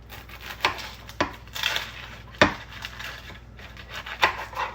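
A knife chops through onion ends on a cutting board while onions are prepared for bread and butter pickles. The cuts come as sharp, separate knocks, about six of them, spaced unevenly and close up, with no talking.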